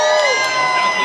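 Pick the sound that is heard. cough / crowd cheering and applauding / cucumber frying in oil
crowd cheering and applauding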